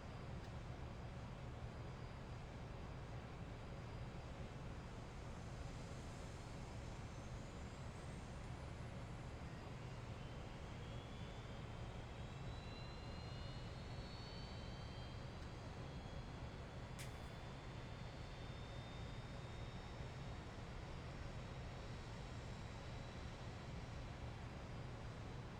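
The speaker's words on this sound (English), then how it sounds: "And engine number 1 is coming alive." Engine 1 of an aircraft in the X-Plane 10 flight simulator starts up, with faint rising whines spooling up over a constant, even engine roar that runs throughout.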